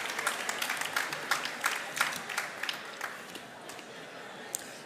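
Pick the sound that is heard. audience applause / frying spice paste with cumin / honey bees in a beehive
audience applause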